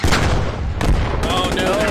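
Tank cannon fire in the Post Scriptum WW2 tank battle game booms hard and close twice in under two seconds, a sharp blast followed by another report with rumbling battlefield noise filling the gaps.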